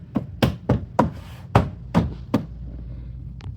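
A series of about seven sharp, evenly spaced taps sounds close by as a door card is pressed onto its clips during a speaker upgrade on a Suzuki Jimny JB74. The taps fall alone, with no talk.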